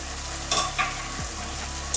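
Potato and prawn curry stirred and fried in a pan, with a steady sizzle underneath and a few distinct scrapes and clinks of the spoon against the pan, close and alone.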